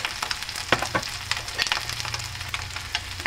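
Onions, garlic, chilies and spices frying in oil with curry leaves, pandan and tomato for a jackfruit and dried sprat curry; a dense, continuous close sizzle with light stirring clicks and no speech.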